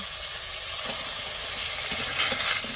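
A steady, hissing sizzle of food frying in a pan close by, with occasional soft stirring scrapes and no voices.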